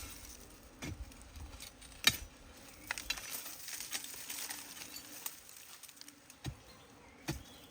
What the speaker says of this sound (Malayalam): അപ്പോൾ ആ ഭാഗത്ത് നിറയെ ഈച്ചയുണ്ട്